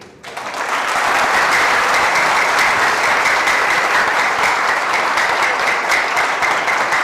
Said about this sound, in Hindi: वो तालियां बताती हैं कंटिन्यू।